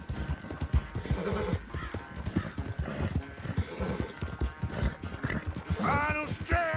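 A horse's hooves clip-clop in a rapid galloping rhythm in Red Dead Redemption 2, with a whinny near the end and faint voices under the hoofbeats.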